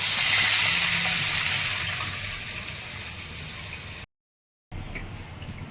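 Water being poured into a pot for jeera rice cooked with cumin seeds in oil, a broad splashing gush loudest at the start that tapers off, cuts out briefly and resumes quieter.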